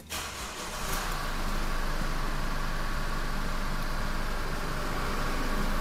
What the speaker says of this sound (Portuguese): Eu vou ligar aqui o carro pra vocês verem um barulho original